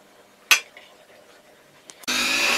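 Cream cheese, caster sugar and gelatin are mixed in a bowl for a strawberry cheesecake. One sharp clink and some quiet scraping lead into a steady, loud stirring rasp near the end.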